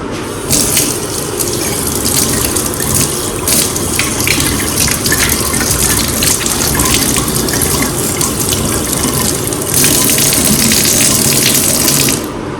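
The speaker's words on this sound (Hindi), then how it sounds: "ये देखिए, थोड़ा सा इसको धो भी लेते हैं।" Water gushes steadily and loudly from a kitchen tap while food is washed under it, a continuous splashing rush that swells slightly near the end, with no talking.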